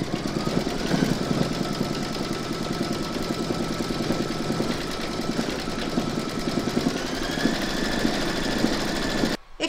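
An embroidery machine quilts the ninth round of a large square scallop placemat, running a steady, fast mechanical whirr with a pulsing stitch rhythm and a faint tonal hum, close and uninterrupted until a brief stop at the end.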